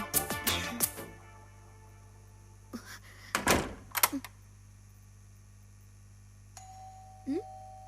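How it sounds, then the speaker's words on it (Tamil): A door is shut and locked indoors: a few sharp knocks and thuds at the start, then a cluster of clunks and a metallic latch click midway, followed by a faint electronic tone near the end. "நான் கதவை லாக் பண்ணிக்கிறேன்"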